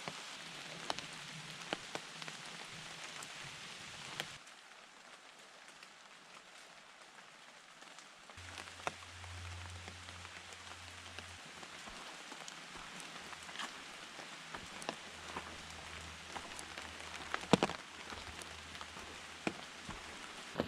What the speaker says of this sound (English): Just walking in the rain.